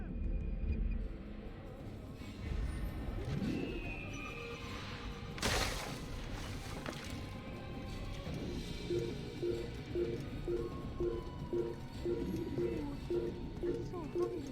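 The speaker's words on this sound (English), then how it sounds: "Oh, there's the bird right there." Bird cooing in the Assassin's Creed video game, heard over busy game ambience with insect-like buzzing, a sharp impact near the middle and a repeated soft cooing pattern in the second half.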